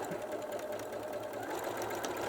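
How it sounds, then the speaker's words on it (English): A sewing machine runs steadily while stitching fabric in a straight line for a kneeling cushion, a continuous close mechanical whir with no talking. "So I can sew in a straight line using that grid as my guideline."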